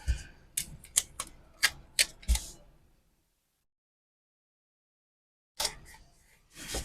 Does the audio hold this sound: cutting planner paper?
yes